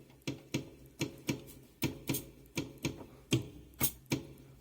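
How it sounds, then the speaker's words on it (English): Drum sounds from a Studio Kit #1 patch triggered on a keyboard and played through a DIY ISD1820 lo-fi sampler in an Altoids tin: a steady beat of about a dozen crisp, punchy hits with snappy transients, alone and fairly close. "let's do some drums"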